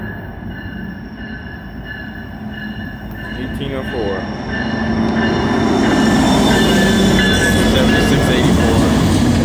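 Norfolk Southern freight train 212 rolling northbound through Charlottesville, Virginia, a loud steady rumble of railcars with squealing wheels that swells and builds partway through, while people talk nearby.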